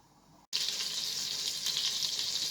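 Oil and butter sizzle loudly in a pot for meatball stew after a brief silent gap, a steady bright crackling hiss with no talking.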